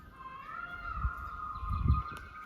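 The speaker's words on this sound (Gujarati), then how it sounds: "અને મોરલો બોલે છે તો સાંભળજો બધા." A peacock calls somewhere outdoors in rural Gujarat, two low bursts of its cry rising over a steady high tonal hum, moderately near.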